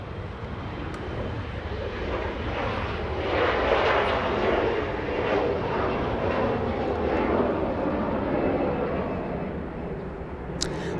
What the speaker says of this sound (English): We go for the E175 departure, flying to Tucson,